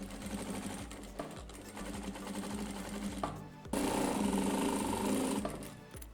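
A sewing machine stitches bias binding onto the edge of an old jacket, a close, rapid mechanical whir running in steady bursts with a brief pause midway before a louder final run.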